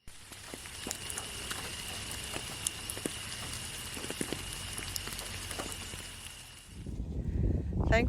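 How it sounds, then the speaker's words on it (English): Light rain patters on a tent on a family canoe trip by the Macquarie River, scattered soft taps over a steady hiss, before a sudden louder rustling close by at the end. "it's still raining a bit"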